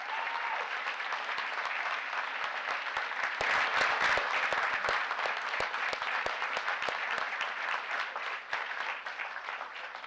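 At a city council meeting, an indoor audience gives a sustained round of applause for a Torrance Babe Ruth 15U All-Star youth baseball team. The clapping is dense and even for about ten seconds, with a few sharper claps near the front.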